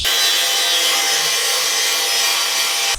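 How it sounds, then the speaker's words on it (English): Angle grinder working over a fabricated steel bull bar, a steady continuous abrasive hiss and rasp running close and loud for the whole stretch without any talk. "So I'm going to get the grinder out now, go nuts, and yeah, just clean it all up a little bit."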